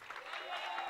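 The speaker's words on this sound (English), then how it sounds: "Give her a round of applause." Conference attendees clap together in a soft, sustained burst of applause that swells slightly, heard at a distance with a voice talking over it.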